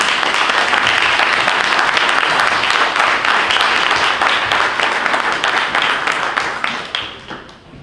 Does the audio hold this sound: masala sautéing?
no